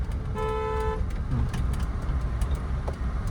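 A car horn blares once for about half a second in a narrow lane over steady engine and road noise, near and clear.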